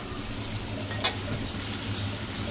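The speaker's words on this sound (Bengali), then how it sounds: "যেরকম ওখানে মাছ আমি ফ্রাই করছি" Fish rubbed with turmeric and salt frying in oil in a home kitchen, a steady low sizzle with one sharp clink of a utensil near the middle, no voices.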